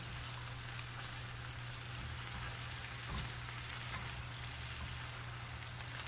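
Yellow squash in butter sizzles steadily in a pan while being stirred, a continuous close frying hiss with a faint scrape of stirring and no talk.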